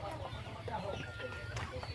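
Chickens clucking on a farm in Bohol, soft scattered clucks mixed with a person talking, under a steady low background rumble.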